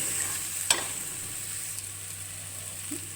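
A soft, steady sizzle of potatoes frying in a pan, with a single clack of a utensil stirring near the start; no voices.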